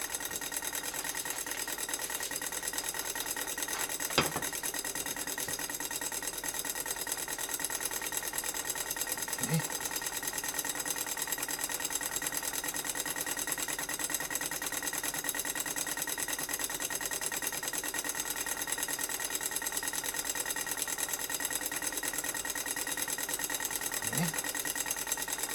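A small homemade magnetic pole flip motor running on about 3 volts, giving a steady faint hum with a couple of soft clicks, continuous throughout.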